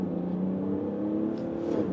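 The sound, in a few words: Mercedes SUV diesel engine accelerating from standstill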